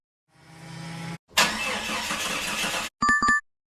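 Car with a dead battery failing to start: a faint rising electrical whine, then a loud, rough grinding burst of about one and a half seconds that cuts off abruptly, followed by short bright chime tones.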